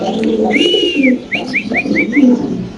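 Pigeons at a pigeon farm call up close, a loud run of soft coos and short whistling notes in an uneven rhythm.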